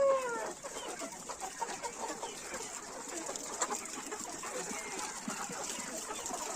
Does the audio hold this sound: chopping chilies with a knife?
no